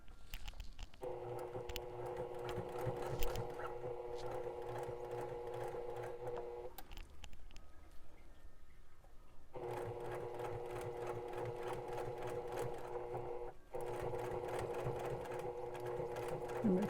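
A sewing machine stitches a fabric water bottle holder in steady humming, rapid-stitch runs, pausing in the middle and again briefly before resuming.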